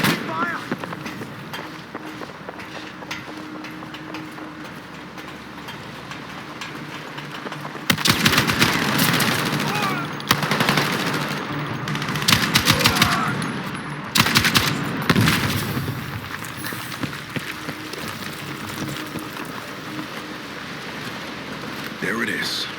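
Heavy Battlefield gunfire breaks out midway, loud sustained automatic bursts with repeated lulls, over a constant hissing battlefield ambience and shouted voices.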